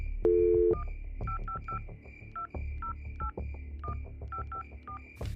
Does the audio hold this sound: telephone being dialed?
yes